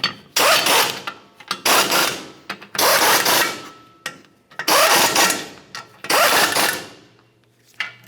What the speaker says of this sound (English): torque each of those to 45 foot-pounds